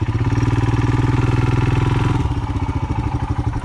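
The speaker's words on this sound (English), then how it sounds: "Ride in figure 8s here. We're going to try and calibrate both compasses. We're just going to ride in circles" A Royal Enfield Himalayan motorcycle riding in figure eights, with a loud, close single-cylinder thump pulsing rapidly and evenly, then easing to a slower, lower beat partway through as the throttle drops.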